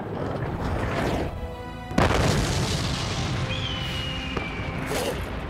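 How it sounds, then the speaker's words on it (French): A single deep cannon boom from an animated Zorro cartoon bursts out loudly, followed by a rumbling tail and a high whistling tone, against a busy dramatic background. "Deuxième canon! Feu!"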